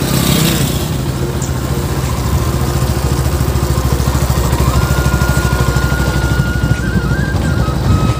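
A motorcycle being ridden outdoors, its engine giving a steady, close, loud chugging drone with a rapid even pulse throughout, plus wind noise and a faint high whine near the end.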